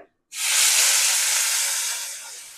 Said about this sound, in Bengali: এই যে এখন করলাটা বসাই দিলাম, এই যে দিয়ে দিতেছি, তেল গরম হয়ে গেছে